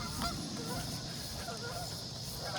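Geese honking in a park, a short stretch of distant, faint honks over steady ambient noise.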